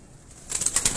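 Pigeons in a loft, a short burst of soft cooing and wing rustle rising after a quiet start, close and moderately loud.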